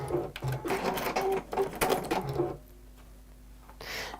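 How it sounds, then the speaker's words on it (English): A sewing machine runs a quarter-inch seam along the short sides of fabric, a steady close whirring burst for a couple of seconds that stops, leaving a faint hum and a small clunk. "So we're stitching the short sides together."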